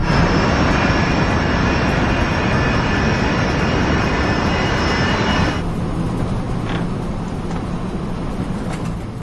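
Steady, loud roar of airliner engines at cruise altitude during a storm in a dramatized air-disaster reconstruction, a broad continuous rumble with high whine that drops in brightness partway through, no talk.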